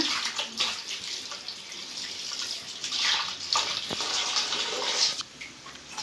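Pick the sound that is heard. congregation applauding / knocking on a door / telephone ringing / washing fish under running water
washing fish under running water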